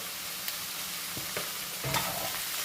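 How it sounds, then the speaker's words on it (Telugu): Salt, turmeric, chilli and coriander powder fried and stirred into a cabbage and potato curry, making a soft continuous sizzle with a few light spoon scrapes. "ఇవన్నీ వేసి జస్ట్ ఒకసారి బాగా కలిపేయాలి సో ఈ మసాలాలన్నీ కొద్దిగా వేగడానికి అన్నట్టు"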